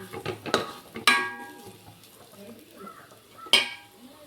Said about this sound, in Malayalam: എന്നിട്ട് വീണ്ടും നന്നായി ഒന്ന് ഇളക്കിയെടുക്കാം